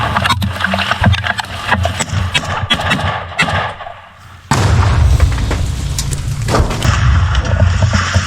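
Grenade explosion during an assault on a building in Avdiivka: a sudden loud blast cuts through nearby gunfire and shuffling movement, followed by a dense rumbling roar.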